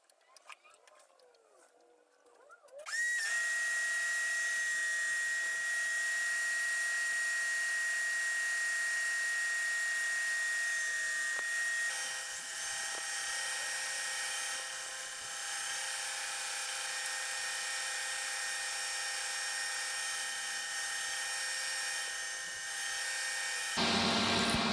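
A saw blade in a jig cuts 12mm tenons into reclaimed hardwood boards, starting after a brief quiet moment and then holding a loud, steady, high-pitched motor whine that runs without break until the end.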